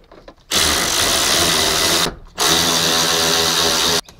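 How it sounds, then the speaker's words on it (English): Power driver tightening the two ignition barrel bolts on a Classic Mini, a loud close whirring run of about a second and a half, a brief pause, then a second equal burst. "All right, tighten up your two bolts."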